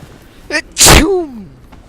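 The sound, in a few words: character sneezing in the video game Vampyr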